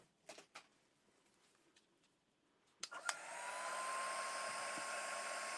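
A hair dryer drying wet craft die cuts starts up after a few soft taps and rustles, then blows as a steady, loud, high whine that runs to the end.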